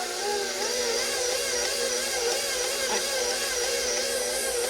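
A mixer kneads whole wheat bread dough on its lowest speed, giving a steady, close motor hum and whir that runs evenly throughout without pause.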